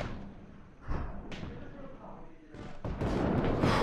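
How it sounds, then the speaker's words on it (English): Sharp gunshot bangs and heavy booms in a haunted house reenactment of sniper fire at Gettysburg, a few loud close blasts between muffled rumbling, with scattered voices nearby. "There's snipers being shot."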